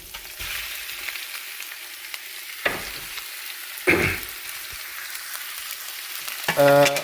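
Beef pieces fry in ginger garlic oil with a soft steady sizzle, broken by a few louder bursts where the meat is moved or added and a clink of utensils near the end. No voices.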